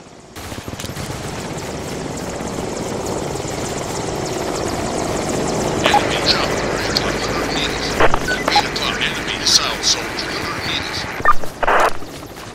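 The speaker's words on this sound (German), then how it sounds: "Der Hubschrauber schießt auf mich." A helicopter in the video game Escape Podagorsk thrums steadily overhead, with bursts of gunfire and sharp impacts building over the last few seconds.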